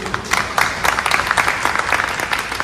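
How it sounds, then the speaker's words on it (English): Brisk, crowded applause from an audience at a press conference, a continuous patter of many hands clapping at fairly close range. "A round of applause, please."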